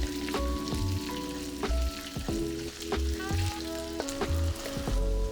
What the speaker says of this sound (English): I've added my andouille sausage to my bacon fat, and we're gonna cook that for about 2 minutes until golden brown.